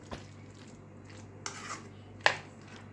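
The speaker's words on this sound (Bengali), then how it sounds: "এখন আমি ব্ল্যাক পেপার ইউজ করে দিচ্ছি, দিয়ে মিক্সড করে" Sandwich filling stirred with black pepper in a bowl, heard as a few soft scrapes and taps of a spoon against the dish, with one sharper clink near the end, quiet and close.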